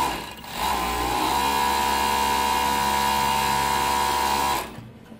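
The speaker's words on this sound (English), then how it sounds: "see how beautiful it sews and it cuts" A New-Tech EX-3216D five-thread overlock serger sews and trims fabric with a steady, close, high-speed mechanical whir lasting several seconds before stopping abruptly.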